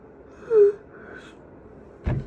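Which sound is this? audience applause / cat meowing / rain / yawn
yawn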